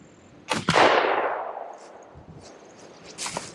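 A bullpup shotgun fires a single sharp shot at a pattern target outdoors, with a crisp report followed by a long decaying rumble. Faint knocks follow later.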